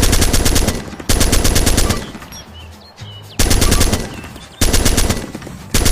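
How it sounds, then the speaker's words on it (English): Full-auto rifle bursts at a shooting range in the game Arma 2, three loud sustained strings of rapid fire separated by brief pauses with faint ambient noise between them. "The full auto mode fires bullets while the trigger is pulled until the clip is empty."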